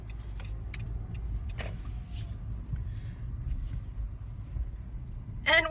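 Car driving through traffic in hot weather, a low steady road rumble inside the cabin with a few faint clicks and a brief whirring near the end, no talk.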